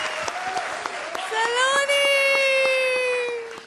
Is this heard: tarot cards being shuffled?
no